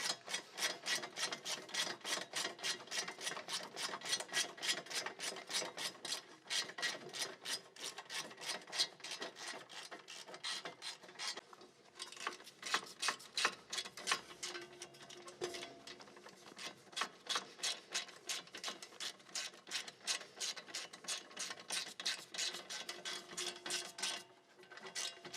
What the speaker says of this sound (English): we'll just take our ratchet and 14mm socket and go ahead and get them started